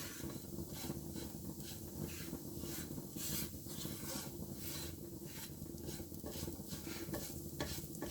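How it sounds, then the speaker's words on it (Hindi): Dry coconut and sago frying in a pan for dry fruit laddus make a soft, quiet sizzle. A spoon stirs and scrapes through it in a regular rhythm, with no voices. "फ्राई तो हल्की सी इसको भी करूँगी, थोड़ा सा खोपरा क्रिस्पी हो जाएगा"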